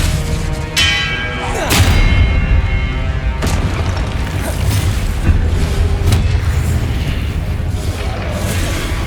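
Confringo fire spells in the video game Hogwarts Legacy, loud booming blasts with bright cracking onsets repeating every second or two over a continuous rumbling combat din.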